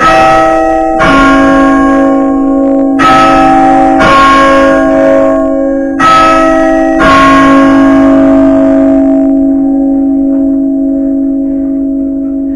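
The carillon bells of the Douai belfry ring loud and close, five struck chords at roughly one-second spacing, each leaving a long, rich humming resonance that lingers and slowly fades after the last strike.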